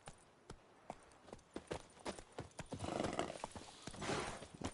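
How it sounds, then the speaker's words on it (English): Horse hooves clip-clop in The Witcher 3 video game, a close, fairly regular run of sharp hoof strikes with a faint whinny and soft ambient noise underneath. "Okay, I need to keep this horse from walking."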